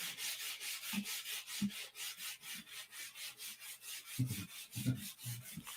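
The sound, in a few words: polishing by rubbing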